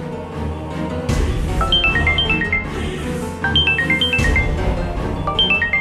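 A telephone ringtone plays as a repeating electronic melody of short high beeping notes, in a few bursts over a steady bed of dramatic background music in a television serial scene.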